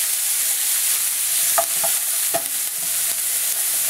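Ginger, garlic and onions frying in a pan for samosa filling, a steady broadband sizzle with a few sharp utensil scrapes and clicks from stirring partway through, no voices.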